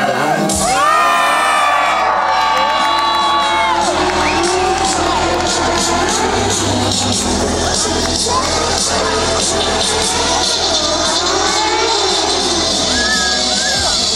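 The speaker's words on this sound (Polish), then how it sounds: "proszę o ogromny hałas na 3, 2, 1" A large crowd at a motorcycle stunt show cheers and screams loudly and continuously, with whoops and yells over an engine droning beneath.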